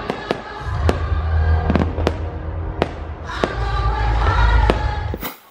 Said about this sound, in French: c'est des feux d'artifice